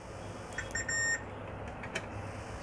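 A multimeter in buzzer continuity mode beeps while probing the coils on a Dell laptop board with a blown amplifier IC: a short steady tone near the middle, with a few faint blips around it, over low background hum.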